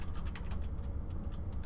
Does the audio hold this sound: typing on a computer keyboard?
yes